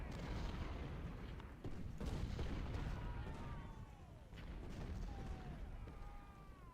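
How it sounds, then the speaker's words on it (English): Cannon and artillery fire from a Civil War battle in the strategy game Ultimate General: Civil War, with dense, continuous booming and rumbling and a few whistling shell sounds arcing through the barrage. "But that's a lot of artillery"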